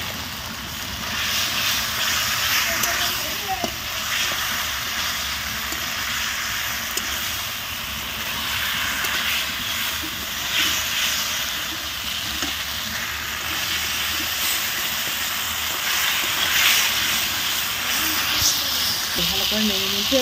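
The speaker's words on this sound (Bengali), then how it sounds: "আলুটা একটু ভেজে নিয়েছিলাম।" Potatoes frying in oil in a pan, a steady close sizzle and hiss running continuously, with occasional stirring sounds.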